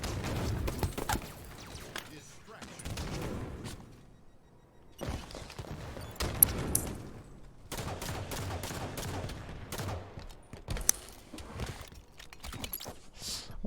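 Shotgun fire in a competitive video game match comes as repeated sharp blasts and bursts of gunfire mixed with footsteps, with a commentator talking over much of the action.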